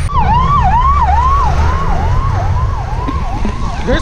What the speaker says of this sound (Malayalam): വോൾവോൻ്റെ ഫയർ എഞ്ചിനാട്ടോ